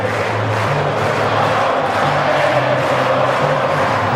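A huge stadium crowd roars continuously after Collingwood beats Brisbane in the 2003 AFL qualifying final, a loud, dense wash of cheering and shouting that holds steady throughout.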